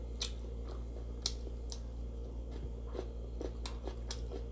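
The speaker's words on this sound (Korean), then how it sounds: "아스파라거스가 진짜 맛있는 것 같아. 뭔가 음, 그 특유의 아삭함이 좋은 것 같아요." Crunchy asparagus being chewed at a home meal, giving soft, irregular crisp bites and crunches close to the mic over a steady low hum, with no talking.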